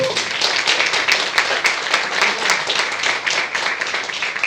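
An audience at a human rights award ceremony gives a round of applause for a former president, a loud, close, steady stretch of many clapping hands.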